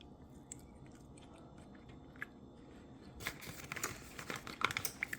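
Someone chews and crunches on delivered Mediterranean restaurant food, including fries, at close range. The sound starts quiet and turns into louder, irregular crunchy bites partway through.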